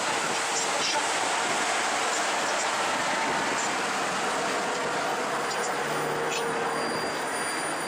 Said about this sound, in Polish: Najdłuższy pociąg